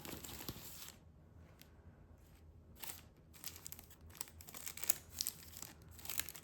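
Paper wrapping around a Sonia G Alpine Eye Series brush set crinkles and tears as it is unwrapped, in close, quiet bursts of rustling with short pauses between handlings.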